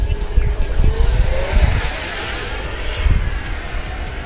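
FMS Rafale RC model jet flying overhead outdoors, its ducted-fan whine sliding up then holding a high tone as it passes, fairly loud over gusty wind rumble, no voices.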